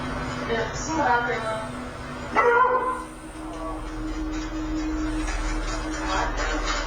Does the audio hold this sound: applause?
no